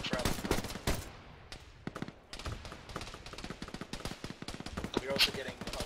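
AGS automatic grenade launcher fire in the Arma video game, heard as rapid, sharp repeated bangs and thuds in dense irregular bursts with a short lull, and brief voices underneath.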